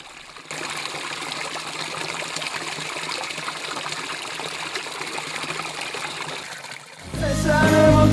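Water trickles and splashes steadily at a mountain spring, a continuous close burble that runs evenly, then gives way to a louder, rougher gush near the end.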